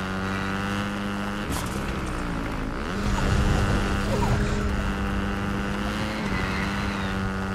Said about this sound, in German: Keine Sorge, ich bin das mit dem Motorrad.